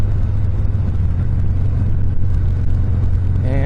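Harley-Davidson Softail Fat Bob engine breathing through repacked straight-through mufflers with no reducers, a steady loud, deep rumble held close up with no pauses.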